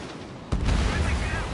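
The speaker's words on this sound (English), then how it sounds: "Bomber hit by a missile." Missile striking a bomber in the combat flight game Ace Combat 7: a sudden loud blast after a short quiet lead-in, then a dense, rumbling roar that holds steady to the end.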